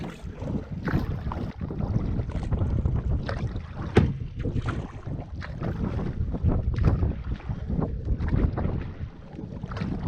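Strong headwind on a lake during a canoe trip in Algonquin buffets the microphone in a constant roar, with gusty rumbling and occasional knocks over the steady noise.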